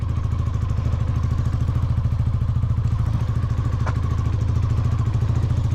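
A Hero Super Splendor motorcycle engine revs hard at full throttle in first gear, a loud, steady, close-up pulsing drone with rapid rhythmic firing throughout.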